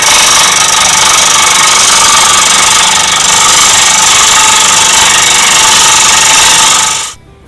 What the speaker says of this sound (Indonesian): kemudian kita potong dengan mesin gergaji potong seperti ini